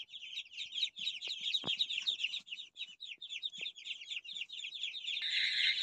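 A crowd of Muscovy ducklings for sale in Bargarh peeps in a dense, continuous chorus of high, rapid chirps. A few soft knocks sound near the start, and the peeping grows louder and fuller toward the end.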